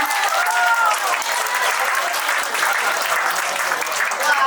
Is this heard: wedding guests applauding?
yes